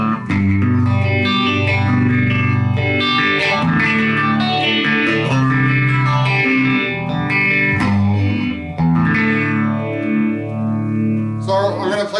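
A clean electric guitar runs through a vintage Electro-Harmonix Small Stone phaser with the color switch set low. Chords and notes are strummed continuously for about twelve seconds with a subtle sweeping shimmer, loud and close, with no talking.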